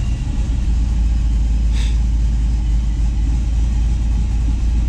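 An LS-swapped Chevy engine idling with a steady, loud low rumble as the AC compressor clutch engages, with a faint click partway through and otherwise constant drone.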